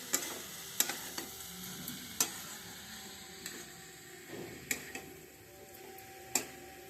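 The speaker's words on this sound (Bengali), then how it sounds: "তারপরে চিনিটা গলবে, আস্তে আস্তে করে পুরটা তৈরি করবো।" Sweet coconut filling with melting sugar for patishapta pitha cooks in a pan, a faint steady sizzle broken by sharp ticks and taps of a spoon against the pan at irregular intervals.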